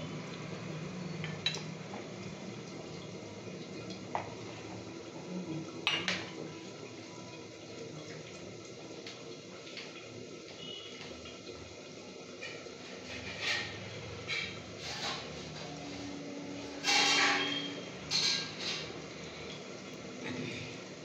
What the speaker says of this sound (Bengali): দেখুন আলু সেদ্ধ বা এই গ্রেভিটা ফোটার আওয়াজ আপনারা পাচ্ছেন